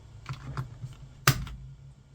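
Plastic keycaps clicking back onto a computer keyboard during cleaning, a few light taps scattered over two seconds followed by one sharp, louder snap near the end, all close up with no talk.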